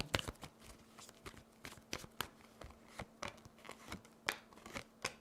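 Tarot cards being shuffled close up, a run of sharp riffling snaps and flutters repeating every second or so, with a faint steady hum underneath.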